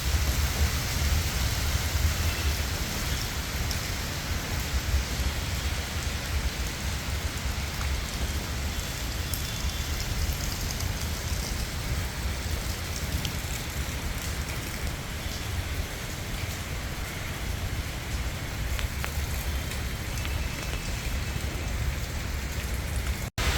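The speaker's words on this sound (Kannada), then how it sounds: "ನೋಡಿ ಧಾರಾಕಾರವಾಗಿ ಬೀಳ್ತಾ ಇದೆ ಮಳೆ" Heavy rain pours down in Bangalore, a dense continuous hiss of drops on surfaces that stays steady and loud throughout, with no voices.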